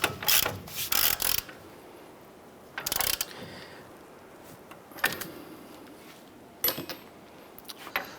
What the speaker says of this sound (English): We're going to use our 22 millimeter socket. We're going to tighten down our upper ball joint nut here.